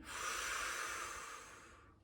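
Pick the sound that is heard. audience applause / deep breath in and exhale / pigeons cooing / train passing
deep breath in and exhale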